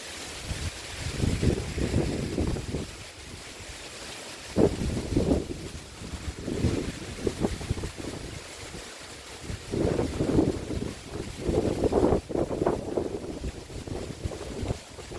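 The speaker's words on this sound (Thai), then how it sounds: "ลมแรงจริงๆค่ะดูต้นมะพร้าวดู" Strong wind buffets the microphone near coconut palms, coming in loud, rumbling gusts that rise and fall irregularly.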